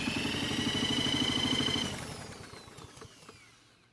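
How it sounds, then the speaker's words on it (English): Small lawn mower engine spun over by a cordless drill instead of the pull rope during a compression test, a steady fast mechanical chugging whir for about two seconds, then slowing and sputtering into irregular clicks and knocks. "instead of using the pull rope, we're going to be using a drill instead"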